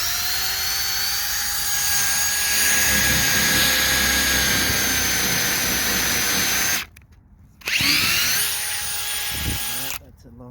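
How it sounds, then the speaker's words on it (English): Power drill with a long bit boring into a tree stump: a loud, close, steady whine that drops out briefly, starts up again, then cuts off near the end. "that's a longer drill bit"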